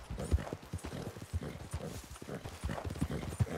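Horse hooves clop in a quick, uneven galloping rhythm in the video game Red Dead Redemption 2, moderately near, with a few sharper thuds and a soft rumble of background noise.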